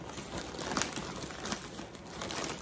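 A plastic haul bag of home decor items crinkles and rustles continuously up close as the items are pulled out, a steady busy crackle with no talking.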